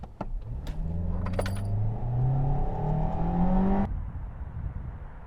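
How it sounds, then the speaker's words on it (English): A 2022 Kia Seltos launches hard in sport mode: the engine note climbs steadily in pitch through several seconds of acceleration, loud and close, then cuts off abruptly, leaving quieter road noise. "I want to do a launch here. I'm going to put it in sport mode."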